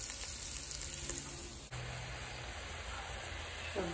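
Cabbage and other vegetables fry in a pan over onions, garlic and five-spice, giving a steady close hiss of frying. Near the middle comes a brief clatter as the contents are tossed or stirred.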